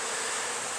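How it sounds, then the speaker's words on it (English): Honeybees buzz around a queen bee beside a plant pot, a dense, steady, close-up hum with no pauses for the whole short moment. "right up against a plant pot with about maybe a dozen bees around her"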